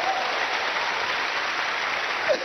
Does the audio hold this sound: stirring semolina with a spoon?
no